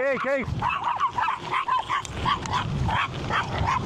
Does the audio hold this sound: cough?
no